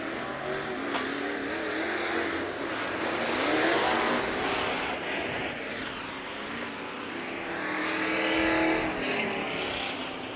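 Modified race cars roar around Bakersfield Speedway during a heat race, a dense, continuous engine din with rising and falling pitch as cars pass, loud and steady throughout with no talk.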